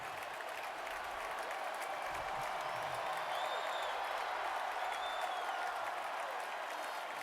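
Steady roar of a large stadium crowd cheering and applauding after a goal-line stand at a 2011 Wisconsin vs Nebraska Big Ten college football game, continuous and distant-sounding with no talk in the foreground.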